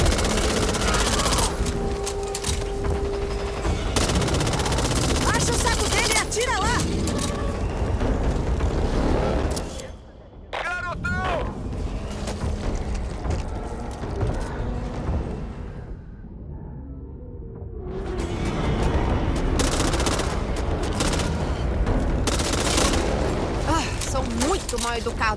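Dense, loud gunfire from the co-op zombie shooter Back 4 Blood, with rapid bursts stacked into a near-continuous roar, easing to a quieter stretch midway before surging again, while players talk over it.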